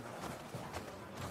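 Horses in The Last of Us Part 2 make faint, muffled hoof clops that are quiet and fairly distant, running for a second with no talking.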